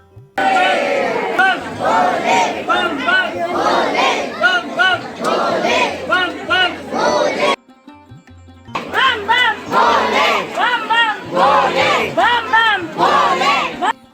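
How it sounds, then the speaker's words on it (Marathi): A large crowd of devotees at the Nageshwar Jyotirlinga temple in Gujarat loudly chants praise to Lord Shiva. The massed voices are rhythmic and close, with one brief pause before the chanting resumes. "जेव्हा भगवान शंकराचा आपण जय जयकार करतो"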